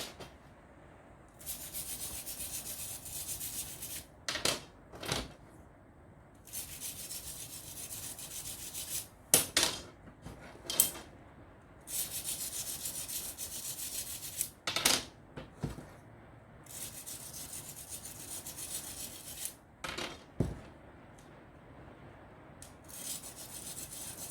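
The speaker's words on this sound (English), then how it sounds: "we use a steel brush to roughen up the inside of the front just a bit so the glue has a bigger surface to attach" A steel brush scrubs the inside of the front end of a carbon arrow shaft, giving a close, steady, scratchy rasp broken by occasional sharp clicks and knocks.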